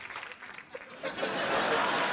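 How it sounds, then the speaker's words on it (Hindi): A studio audience at a TV comedy show breaks into applause that swells over about two seconds, with a voice briefly audible at the start. "तो एक बार जोरदार तालियां हो जाएं पूरी मिर्जा की कास्ट के लिए"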